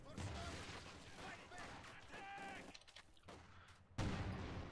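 A Pak anti-tank gun fires on a house in Company of Heroes 2, giving heavy, sharp blasts amid ongoing battle noise, with the loudest report near the end and a voice talking throughout.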